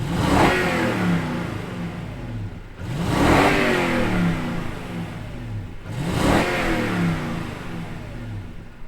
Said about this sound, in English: let's fire up this V8 and see what it sounds like